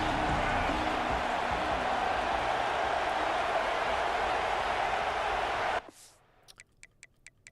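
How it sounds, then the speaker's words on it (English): A roaring full-stadium crowd from the video game EA Sports College Football 26 swells loud and steady, then cuts off abruptly, leaving a few faint ticks and clicks. "we're full stadium pulse right now, so the crowd is like even louder"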